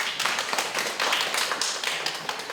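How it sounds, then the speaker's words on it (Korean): An audience at a festival press conference claps in a steady patter of hand claps, moderately near and continuous with no voices over it. "다시 한번 뜨거운 박수 부탁드리겠습니다."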